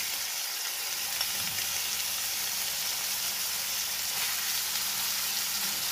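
A John Dory fillet and garlic fry in a pan, giving a steady, even sizzle with a soft hiss that carries on without a break.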